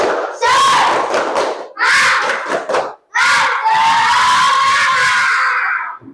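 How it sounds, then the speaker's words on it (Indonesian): Students in a classroom shout a loud spirit clap chant together in three bursts, the last one long and sustained, with a crowd-like roar of young voices. "tepuk semangat."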